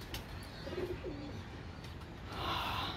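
Soft, low pigeon coos sound close by in a quiet setting, a few short murmured calls followed by a brighter rustle.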